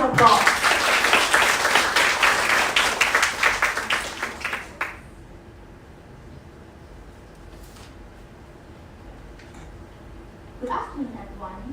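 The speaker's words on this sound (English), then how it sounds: "A round of applause." Audience at a youth speech competition applauds a child contestant, a lively burst of many hands for about five seconds that stops abruptly into quiet room tone before a voice begins near the end.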